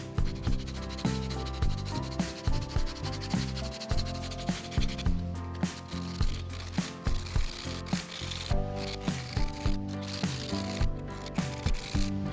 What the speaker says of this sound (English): finishing it with sandpaper